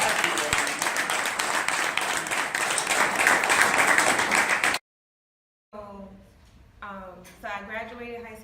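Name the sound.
audience applause at a closing ceremony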